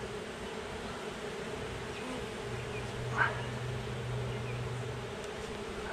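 Honey bees buzz faintly and steadily during a transfer from a nuc into a hive, with one brief nearer buzz or knock partway through, in a quiet outdoor setting.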